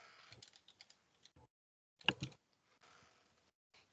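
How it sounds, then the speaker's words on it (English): Quiet bursts of computer keyboard typing, scattered clicks and short runs of keystrokes with one louder tap near the middle, close by with no talking. "I'll just type to him."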